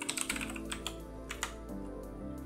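Someone types a root username and password on a computer keyboard during a Proxmox setup, a quick run of light, close key clicks in an otherwise quiet room.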